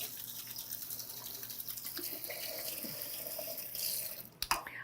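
Tap water runs steadily into a kitchen sink while about a pound of carrots is rinsed under it, a continuous close splashing hiss with a few brief clunks near the end.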